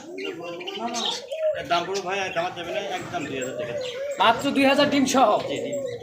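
Soft diamond dove cooing beneath someone talking close by, the calls partly masked by his speech.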